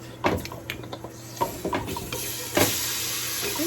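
Pre-seasoned mutton goes into a curry pot with burnt garlic and ginger, setting off a loud, steady sizzle after a few clacks and scrapes of a spoon against the pot, with no voices.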